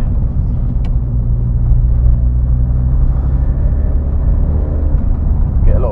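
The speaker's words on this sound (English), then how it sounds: "It's a very weird noise to expect from a diesel. Yeah. Like, you get a mix of turbo and exhaust." A Skoda Fabia vRS 1.9 TDI diesel gives off a loud, steady low rumble from inside the car, mixing turbo and exhaust noise without a break.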